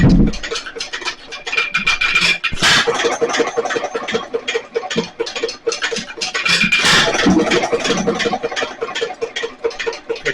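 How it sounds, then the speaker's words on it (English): A small Nelson Little Jumbo 1.5 HP hit-and-miss engine runs up close, with a rapid, loud mechanical clatter and ticking, plus two sharp firing bursts spaced several seconds apart. "Nice small engine."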